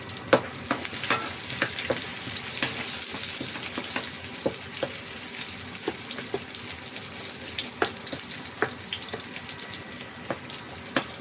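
Garlic and onion sauté in a pan with a constant bright sizzle and scattered crackles and scraping stirs, close and alone without talk.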